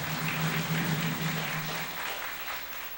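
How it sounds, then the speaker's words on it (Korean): A church congregation claps for a departing member during a Sunday morning service, a dense, moderately distant wash of applause that thins out toward the end. "큰 박수 한번 해주시기 바랍니다"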